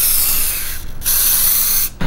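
An aerosol spray can lays a first coat of paint on a Toyota Tacoma V6 badge, giving loud, close, continuous hissing bursts with two brief breaks.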